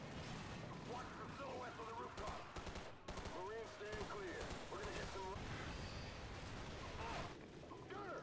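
Rapid automatic gunfire and bursts of shooting from the video game Call of Duty 4: Modern Warfare crackle loudly and continuously, with dense overlapping shots and booms, while someone talks over the action.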